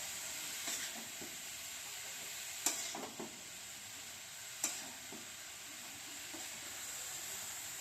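Cabbage cooking with a rohu fish head in a pan, sizzling and frying steadily, with a few sharp scrapes and clinks as it is stirred, plus a soft steady hiss underneath.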